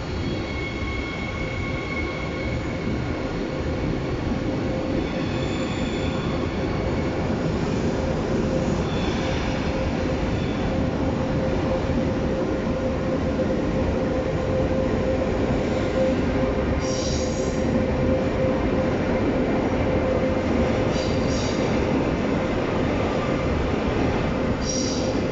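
A RAX train rolls through Cologne main station with a steady, continuous rumble of wheels on rail, brief faint squeals rising near the end, loud and close for the whole stretch with no talking.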